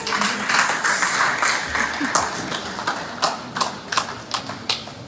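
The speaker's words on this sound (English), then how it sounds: "So please let's give her a round of applause." A round of applause at a monthly meeting, dense clapping from a crowd that gradually thins to a few scattered, sharper claps toward the end.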